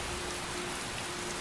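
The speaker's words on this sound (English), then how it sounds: "Oh, it is raining now." Rain falls in the video game Skyrim, a steady, even hiss of dense downpour that fills the short stretch with no other sounds.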